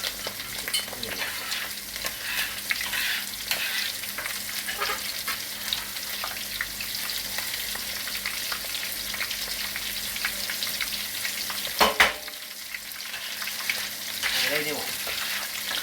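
Leftover savory potato funnel cakes, onion rings or wings sizzling and crackling steadily in hot frying oil for the whole stretch, with a brief louder clatter near the end and faint background voices.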